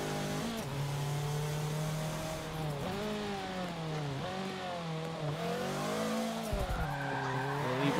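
A car drifts and slides through a turn on a rain-wet road, its engine revving hard and continuously with pitch swinging up and down as the throttle is worked, close and loud, with no voices.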